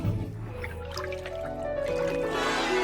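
Water trickles and drips into a small doll house bathtub, with a wet, bubbly dribbling sound that rises in pitch as the tub fills, heard close and alone.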